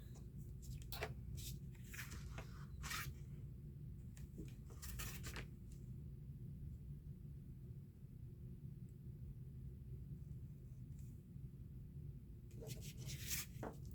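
Scissors or a blade cut along a line in short scraping bursts, faint and close, spread across the span with long quiet gaps and a low room hum underneath.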